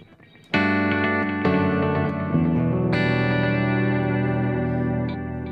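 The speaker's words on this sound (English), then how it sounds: "you can see how that Aurora delay makes a bit of a reverb" An electric guitar plays sustained chords and notes through a Fractal VP4 multi-effects pedal's Aurora delay, each strum ringing out with lingering echoes and a washy, reverberant tail.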